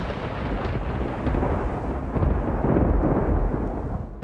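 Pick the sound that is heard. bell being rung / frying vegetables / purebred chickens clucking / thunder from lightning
thunder from lightning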